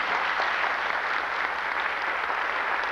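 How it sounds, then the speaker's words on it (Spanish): Dense, steady applause from a large crowd at a tribute event in Paraguay, continuous clapping at an even level throughout. "Un fuerte aplauso para esta voz nacional de la locución paraguaya"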